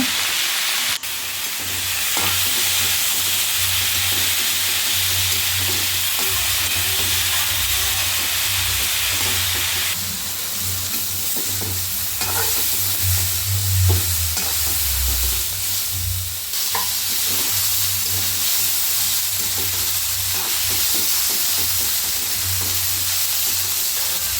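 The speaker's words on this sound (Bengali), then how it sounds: "আমি হলুদ দিয়ে দিচ্ছি, লবণ দিয়ে দিচ্ছি। সুন্দর করে ভেজে নেব।" Turmeric and salt sizzle in hot oil in a pan for a water lily stem and fish curry, a loud, continuous close hiss with stirring scrapes and no talk.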